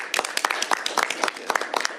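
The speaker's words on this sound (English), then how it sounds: "a round of applause for this legislation getting done" Scattered clapping from a small group at a governor's bill signing, a few seconds of uneven, close hand claps with light voices mixed in.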